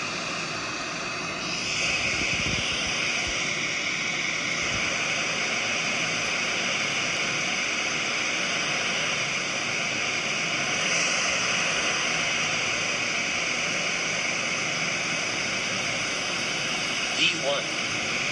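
An airliner's engines roar loud and steady as it accelerates down the runway for takeoff, a continuous broadband rumble and whine heard from inside the aircraft, with voices talking over it.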